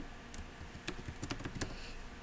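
Quick taps on a computer keyboard as a username is typed, a short irregular run of light clicks, close but quiet, ending with a slightly firmer keystroke.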